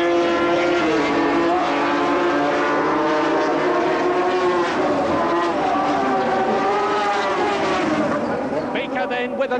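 750cc racing motorcycles at Brands Hatch in 1977, engines wailing loudly and continuously as riders sweep round Druids and lap slower machines, rising and falling pitches overlapping, with a commentator's voice running over the racket.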